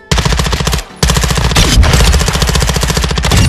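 Rapid SMG fire from Call of Duty: Modern Warfare II, loud and close, in fast steady bursts with a brief break near the start, then continuous rattling shots to the end.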